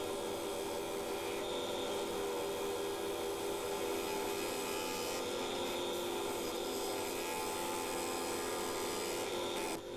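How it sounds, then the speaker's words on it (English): Bowl gouge hollowing a bog oak bowl on a wood lathe: a steady, dense scraping rasp with a constant humming drone, continuous and close throughout. "just sharpened up my bowl gouge for the final hollowing"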